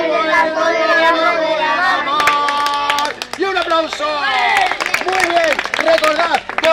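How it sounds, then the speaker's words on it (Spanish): Children at a storytelling session clap in a burst of lively applause mixed with excited chatter and young voices, close and busy throughout. "Y un aplauso"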